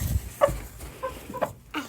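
Chickens in a coop give a few soft, scattered clucks and short throaty calls, close by and fairly quiet, with brief gaps between each sound.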